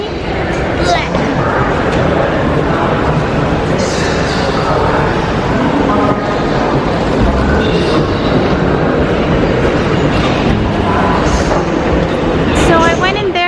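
Continuous loud rumble of rail traffic at Milan's major railway station, with clattering wheels and occasional high metallic squeals, steady throughout with busy ambient noise.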